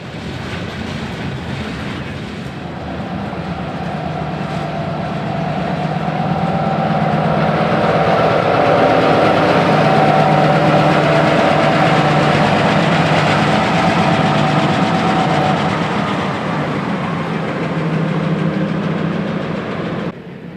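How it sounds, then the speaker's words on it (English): A short-line freight train rolls past Dolton Junction at an industrial rail hotspot, its engine drone swelling into a steady, loud passing rumble with wheel clatter before easing off near the end; no talk. "this would be the last train of the day"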